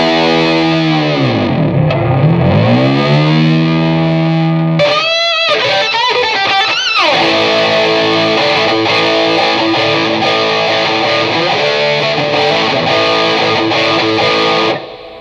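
Electric guitar played through a Hughes & Kettner Grand Meister 36 tube amp set to 1 watt, distorted and loud with effects, a bending opening phrase followed by dense sustained chords, no talking.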